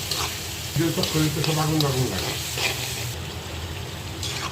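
Rohu fish with potatoes and turmeric, chili and mixed spices frying in a pan, a steady close sizzle with stirring, while a voice talks over part of it.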